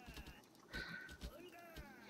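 A sheep bleats in the video game Craft The World, short, quiet calls amid soft game sounds, with someone talking over them.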